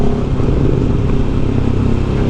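A Bajaj NS200 motorcycle on a test drive in Albay, Bicol, with a loud, close engine drone that holds steady, broken by rough low-end rumble and slight clatter.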